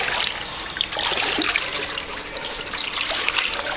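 A toilet flushes with a steady, rushing torrent of water that stays loud and close throughout, with no voices.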